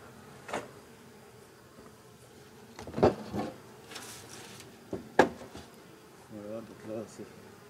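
Honeybees buzzing around an open beehive, a faint steady hum with a few louder passes near the microphone and soft wooden knocks of frames and covers being handled.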